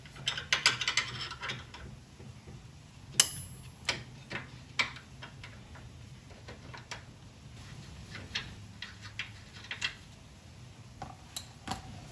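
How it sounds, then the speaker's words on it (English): A 3/8 inch drive ratchet with a 15mm socket, extended by a box wrench, backs a bolt off a 1997 Jeep TJ rear track bar, giving a steady run of close, dry clicks and ticks with occasional sharper metallic knocks. "with a 3/8 inch drive, 15mm socket, with an extra box wrench on the end of it, I'm able to get enough torque to just literally back this bolt out"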